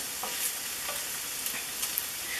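Garlic stir-fries in a pan for lo mein with a soft, even sizzle and hiss. Faint spatula scrapes come every half second or so, and there is no speech.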